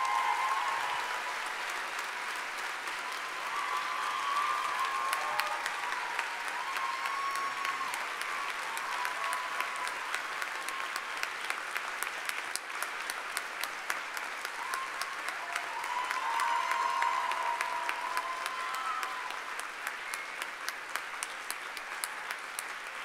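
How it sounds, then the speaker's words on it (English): Sustained audience applause at a University of Brighton summer graduation ceremony, a broad, even wash of clapping that holds for over twenty seconds, with a few sharper claps standing out close by. "You deserve all the applause that you've received"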